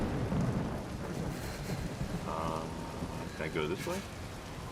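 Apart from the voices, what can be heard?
heavy rain in video game Uncharted 4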